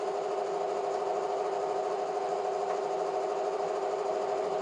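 Homemade spot welder built from a microwave oven transformer hums once switched on, a steady, loud electrical buzz with constant tone throughout.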